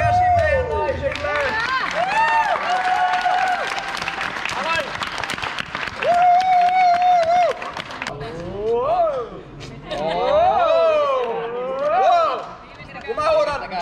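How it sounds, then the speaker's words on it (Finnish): A crowd at a street workout championship applauds and cheers loudly and continuously, with music-like tonal sounds and shouting voices mixed throughout. "Arvon yleisö, antakaa iso käsi meidän naisille!"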